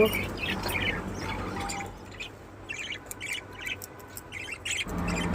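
A newly paired couple of budgerigars chirp and squawk in quick, scattered bursts over a steady background hiss, with a brief lull midway before the calls pick up again.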